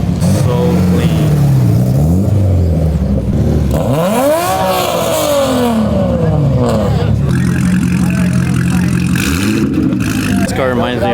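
A Lamborghini at a large car meet revs hard several times, each sweep climbing and falling, loud and close, with other engines and people talking around it.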